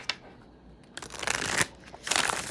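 A tarot deck is shuffled by hand in a few quick riffling bursts, close and moderately quiet, with brief gaps between them.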